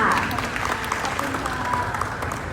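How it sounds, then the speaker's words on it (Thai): Audience applause at a Central x TAT public event featuring Miss Universe Thailand contestants, a steady dense wash of many hands clapping from a crowd, fairly loud and continuous, with voices mixed in. "ขอเสียงปรบมือให้กับทั้งสามท่านด้วยค่ะ"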